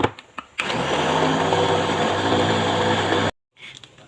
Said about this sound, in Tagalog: takpan ulit natin at i-food processor ulit natin